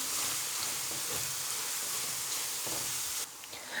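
Turmeric and red chili powder fry in a pan for aloo bhujia, giving a steady, faint sizzling hiss with a few soft stirring scrapes, cutting slightly quieter near the end.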